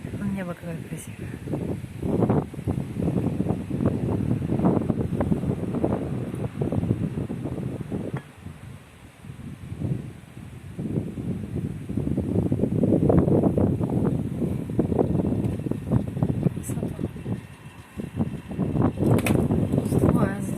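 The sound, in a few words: night wind recorded on a phone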